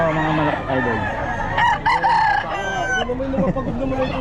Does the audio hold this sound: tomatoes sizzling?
no